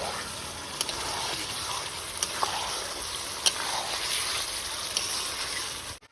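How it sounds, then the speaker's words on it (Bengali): Mutton curry sizzles as it is slow-fried in a pan with small splashes of water, giving a steady close hiss with faint pops, then cutting off abruptly. "এই আস্তে আস্তে ঢেকে ঢেকে একটু একটু জল দিয়ে দিয়ে কষিয়ে নেব"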